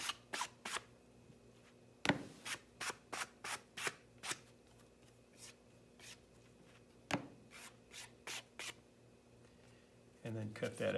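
A rib tool scraping repeatedly across a rolled clay slab for a handmade 4-inch planter, making rapid, rhythmic rasping strokes in short bursts, close, with a brief rougher rub at the end.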